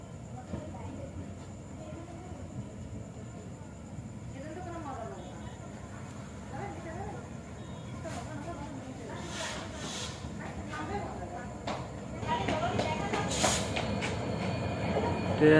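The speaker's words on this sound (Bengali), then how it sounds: "অবশেষে অপেক্ষা করতে করতে ট্রেন চলে এসেছে।" Train pulling into a brightly lit station platform at night, a steady rolling rumble with faint wheel squeals that grows louder toward the end, with people talking over it.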